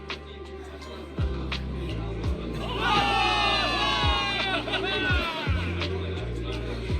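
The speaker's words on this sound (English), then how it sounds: "Give it up for yourselves, soldiers! Cheer for victory!" Crowd of soldiers cheering and whooping in Zenless Zone Zero, a loud mass of voices swelling in the middle over steady game music.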